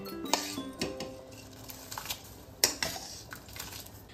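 Washed rice is tipped into a cooking pot for temple-style bhog khichdi, giving close metallic clinks and a soft pattering rustle with a few sharper knocks.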